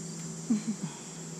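A honeybee caught during hive work emits a couple of brief chirps over a steady close buzzing hum.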